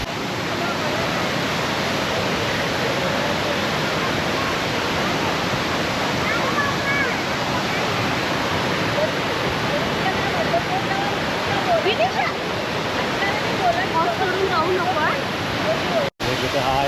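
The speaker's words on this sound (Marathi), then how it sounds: "आपण आलो होतो शेवटचा या धबधब्या ठिकाणी असताना" The Savatsada waterfall near Chiplun roars as a dense, unbroken rush of falling water, loud and steady throughout, with no talking heard over it.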